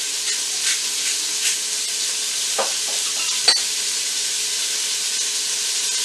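Beef sizzles steadily in a hot pan, browning for an English beef and ale stew, a continuous bright hiss with a few soft stirring knocks, close and even.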